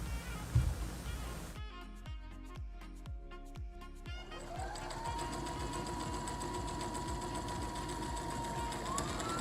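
A sewing machine stitches a quarter-inch elastic tunnel on a reversible triangle bikini top, a quick rhythmic run of needle strokes giving way to a steady, even motor whir that continues close and clear to the end.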